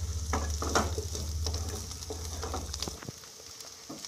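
Spiced potatoes for aloo chatpate are tossed and mixed in a hot pan, a close sizzle broken by repeated scraping stirs, with a low rumble that drops away near the end; no talking.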